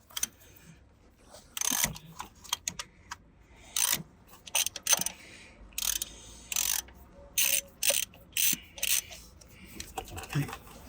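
A ratchet undoes the water pump housing bolts on a Mercedes C220 CDI W204 with the OM651 engine, giving about a dozen short, close clicking bursts separated by brief pauses, over quiet room noise.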